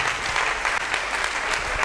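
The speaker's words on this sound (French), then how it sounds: "Acclamons très fort pour le" A church congregation claps loudly and continuously in sustained, dense applause filling the room.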